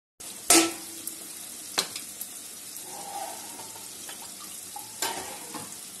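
A sharp clatter, then a steady soft sizzle with a few light scrapes as a spice paste with a little sugar fries and is stirred in a pan for a Bengali yogurt prawn curry.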